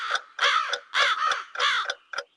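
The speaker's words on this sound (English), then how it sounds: "the birds are starting to sing" A crow caws repeatedly at dawn, a series of harsh calls in uneven bursts close by and loud, standing alone without talk.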